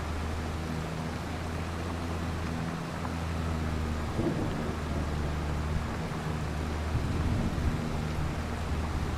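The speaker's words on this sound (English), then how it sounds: "I do love how the rain sounds in Farming Simulator." Steady rain hiss in Farming Simulator 25 with a low rumbling drone underneath, a continuous stormy wash of sound with faint thunder-like swells and no voices.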